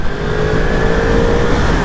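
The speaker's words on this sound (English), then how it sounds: "Wow, listen to this engine." A 2023 Yamaha MT10 motorcycle engine drones loudly and steadily under load while riding on slippery roads, a sustained close-up roar with no pauses.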